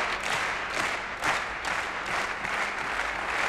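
Audience at the Danish Open 2003 men's doubles badminton final applauding in a steady rhythmic clap, a dense continuous wash of many hands filling the hall.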